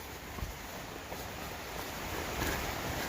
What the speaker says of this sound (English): you can hear